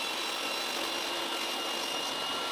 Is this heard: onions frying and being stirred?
no